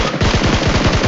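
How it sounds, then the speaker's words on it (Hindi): Rapid automatic gunfire from a video game weapon, a steady burst of about a dozen evenly spaced shots filling the whole moment, loud and close with no voices. "ये वाली गन चलाना दूसरी वाली ऑटो गन"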